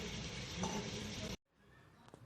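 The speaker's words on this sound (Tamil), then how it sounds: "கொத்தமல்லி புதினாவும் நல்லா வதங்குற வரைக்கும் நம்ம திரும்பி வதக்கிக்கலாம்." Coriander and mint leaves sautéing in a pan for mutton biryani, a close, steady sizzle with stirring that stops abruptly, leaving faint crackles.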